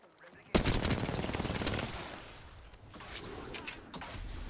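Rapid gunfire bursts in the battle royale game Apex Legends, a loud sustained volley starting abruptly and then continuing at a lower level with scattered shots, while voices talk faintly beneath.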